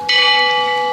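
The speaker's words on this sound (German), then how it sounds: "Oh, was eine schöne Glocke." A church bell in a small town sounds one clear, ringing strike that hangs and fades slowly, fairly loud and alone.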